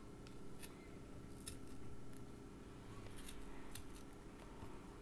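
Scissors snip through wool yarn wound on a Clover pompom maker, several faint crisp cuts spaced irregularly over quiet room hum.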